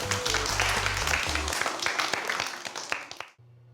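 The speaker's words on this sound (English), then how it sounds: "Let's give yourselves a clap." Children in a primary school maths class clap for themselves, a close, lively burst of many small hands that thins out and stops abruptly near the end.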